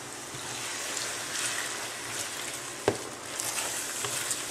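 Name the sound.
sherry cooking in pan with onions, flour and butter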